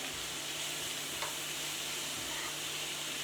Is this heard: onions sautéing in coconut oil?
yes